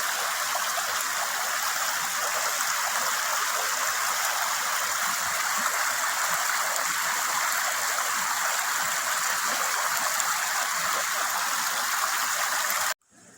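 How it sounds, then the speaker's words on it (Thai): Tham Lek Waterfall in Thailand roars steadily and loudly nearby at its fifth tier, a dense unbroken rush of water that cuts off abruptly at the end. "อันนี้คือชั้นที่ห้าครับ ของน้ำตกถ้าเหล็ก"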